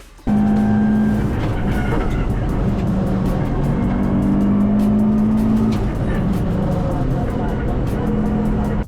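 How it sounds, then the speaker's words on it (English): Loud in-car drivetrain noise with a whining, grinding drone from the solid-mounted differential at the rear of a race car, continuous over engine roar for several seconds. "the horrific noise that the diff makes from being solid mounted to the car"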